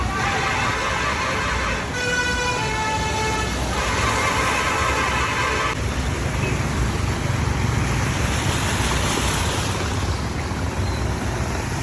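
Flood water rushes continuously with a loud broadband roar over a main road, and a vehicle horn briefly sounds over it early on.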